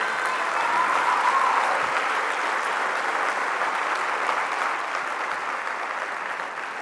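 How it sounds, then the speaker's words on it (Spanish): A large crowd at a political rally in Spain applauding steadily and loudly, a dense wash of clapping that holds for several seconds and eases off only slightly at the end. "Quiero pedir un aplauso para Laura"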